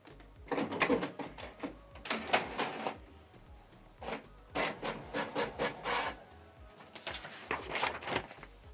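A Canon Maxify MB2150 inkjet printer runs a test page, giving repeated bursts of mechanical whirring and rasping carriage passes with short pauses between them, close and fairly loud.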